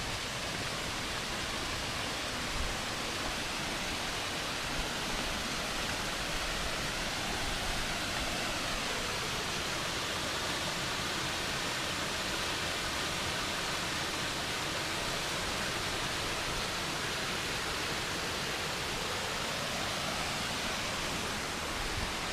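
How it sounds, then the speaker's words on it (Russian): Rushing water in a park stream near the Langkawi waterfalls gives a dense, constant broadband roar that stays steady and loud throughout, with no voices. "это не водопад, это просто парк с водичкой, где она шумит"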